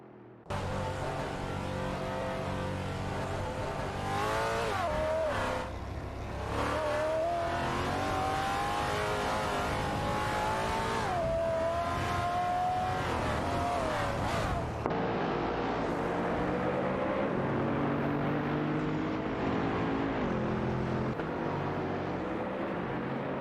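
Race cars in an AI-driven racing video game, engines whining steadily as they rise and fall in pitch through gear shifts, loud and continuous throughout with no talk.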